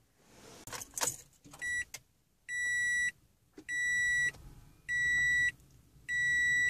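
Inside a Toyota Prius C hybrid being started, keys jangle, then a series of four or five evenly spaced electronic beeps sound while the engine stays silent.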